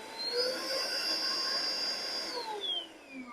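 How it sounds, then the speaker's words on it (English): A Bissell cordless Green Machine spot cleaner running its suction motor, a steady high whine that holds and then winds down near the end, close and alone without speech. "You turn it on, and it does have two options for suction."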